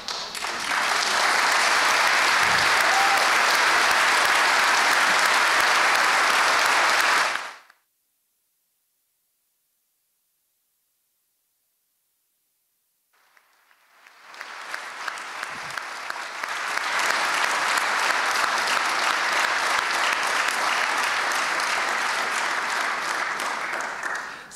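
Dense, loud audience applause at a French plenary conference, a sustained clapping burst that cuts off abruptly, followed by silence, then a second round of clapping that swells back up and holds steady.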